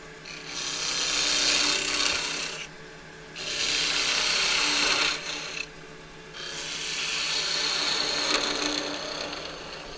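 A half-inch spindle gouge cuts scrap wood on a lathe while beads are turned, making three long rasping passes separated by short quieter gaps.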